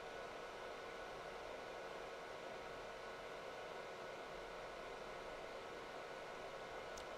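A fume extractor fan runs steadily throughout, a constant broadband whooshing hum with no breaks and no talk.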